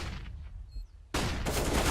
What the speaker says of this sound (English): Happy gonna get sprayed down surely by Body